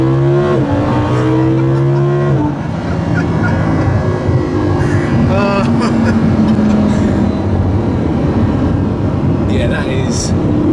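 Lamborghini Huracan, 2015, accelerating hard on a motorway: a loud engine rising in pitch through the gears with brief shift breaks, heard close from inside the car while people talk over it.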